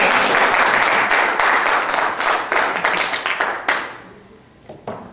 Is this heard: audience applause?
yes